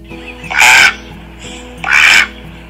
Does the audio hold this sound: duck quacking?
yes